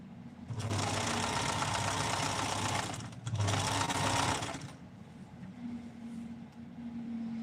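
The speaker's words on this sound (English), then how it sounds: "this one is now going to be sewn flat" A sewing machine stitching fabric scraps flat runs in two steady bursts of rapid whirring, close and clear, then falls to a quieter hum with a faint tone behind it.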